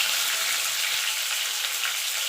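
Potato and pumpkin pieces stir-frying in a pan for a vegetarian Bengali pui shaak chorchori, a steady bright sizzle holding evenly throughout with no talking.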